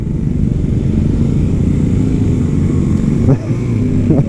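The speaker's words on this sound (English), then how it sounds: "I don't know why I'm competing in the revving of engines" Royal Enfield Scram 411 motorcycle engine running steadily up close with a low rumbling throb, a brief rev spike near the end, heard while riding alongside another rider.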